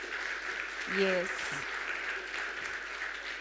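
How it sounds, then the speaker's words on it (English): A science buskers festival audience claps hands, giving a moderate, steady patter of applause in the background while a voice speaks briefly over it. "clap hands for yourself for making it this far"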